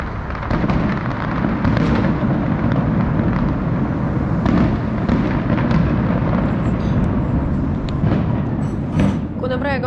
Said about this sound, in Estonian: Praegu on mingisugune Brisbane festival, siis linn laseb nagu mingi täiega ilutulestikku